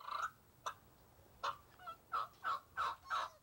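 A man imitates a wild turkey's gobble with his voice, giving a quick series of loud, rattling bursts, one short call and then a run of about six rhythmic gobbles close up.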